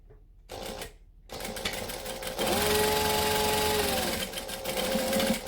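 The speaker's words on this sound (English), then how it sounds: "now we're going to top stitch that" Sewing machine top stitching a garment piece in bursts: two short runs with pauses, then a longer steady whirring run with a faint higher whine, fairly quiet and close.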